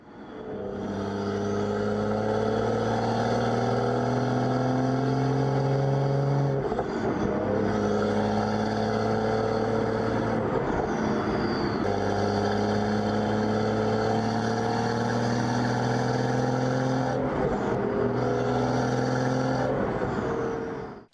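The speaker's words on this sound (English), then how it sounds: "You guys can hear what this thing sounds like for a few seconds." A BMW car with a B58 engine drives along with a smooth, steady drone heard from a rear-mounted microphone, the engine note holding for long stretches and dipping briefly at a few shift points.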